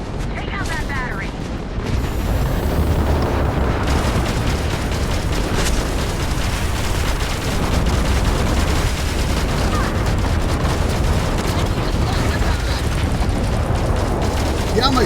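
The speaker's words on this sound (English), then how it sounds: "my turrets are just automatically firing" Automatic turrets fire without pause in a sci-fi space combat game, a loud dense barrage of blasts and booms running nonstop, with faint voices mixed in.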